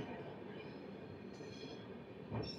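The Rayalaseema Superfast Express pulls out of Raichur Junction with a steady, faint rolling rumble of railcars. A short squeal of wheels rises near the end.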